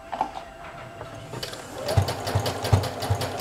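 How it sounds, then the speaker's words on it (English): A sewing machine stitches along the edge of a bra pad, its motor whirring in a steady, rapid run with faint rhythmic knocks of the needle, close and moderately loud with no talk over it. "I'm going to turn my machine up a little faster so we can do this faster."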